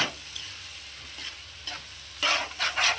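A spoon stirs taro root and dried fish curry in a pan, scraping and mixing over a low sizzle, with louder bursts of stirring toward the end.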